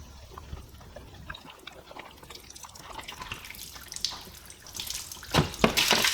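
Water drips and splashes from an opened deionized water filter housing, a CR Spotless DIW-20, starting as scattered faint drips and building into louder spilling splashes near the end.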